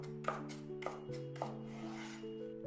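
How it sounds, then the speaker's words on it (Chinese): A knife chops napa cabbage stems into chopstick-thin strips on a cutting board, giving a steady run of crisp, close strokes with no voices. "然後再切成大約和筷子粗細的小條， 盡可能的切均勻一些"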